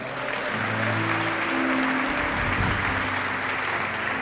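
Steady applause from a large church congregation, loud and continuous throughout, with faint musical tones underneath.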